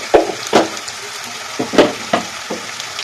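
Ginger garlic paste fries in a pan while being stirred, making soft sizzling under repeated scraping, knocking stirs spaced about half a second apart, close and clear.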